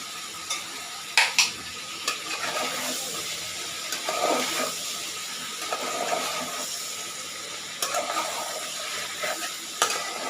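Shing fish being stirred and cooked in a pot with radish, a steady sizzle running throughout, broken by a few sharp clinks of utensil on pot and soft scraping.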